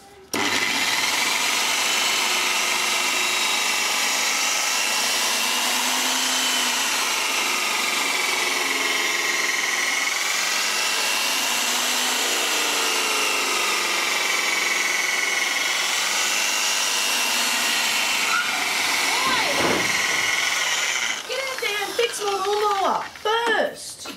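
Rotary buffer polishing swirl marks out of car paint on a bonnet runs loud and continuous, a steady whine with shifting pitch, and a voice speaks briefly near the end.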